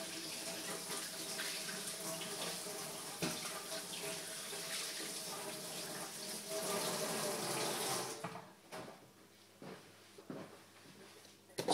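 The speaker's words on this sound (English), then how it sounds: "just wash my hands again" Tap water runs steadily into a kitchen sink while hands are washed, a close hissing stream for about eight seconds before the faucet shuts off, leaving soft splashes and drips.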